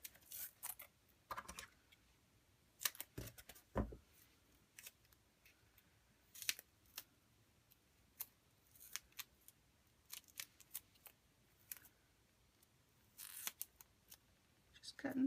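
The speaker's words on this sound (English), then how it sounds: "Cutting some foam tape." Scissors cutting foam tape during a shaker-card craft, quiet sharp snips and clicks in uneven bursts, close and faint with pauses between cuts.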